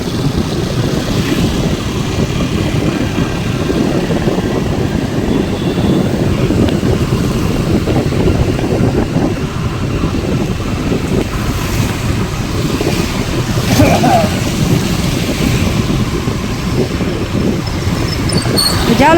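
Wind on a rainy, cold day blowing hard into the microphone, producing a loud, continuous low roar and buffeting for the whole stretch, with no clear talk.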